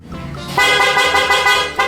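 A loud, blaring aftermarket horn on a Zontes 400M motorcycle sounds up close, starting with a short buildup then sustaining a harsh, brassy blast with a brief re-press at the end.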